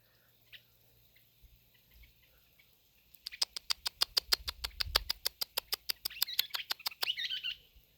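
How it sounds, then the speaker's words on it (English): Near silence with faint distant noises, then a bird bursts into a rapid run of loud, sharp, evenly spaced chirps that turn into chattering. "listen to that bird chew me out"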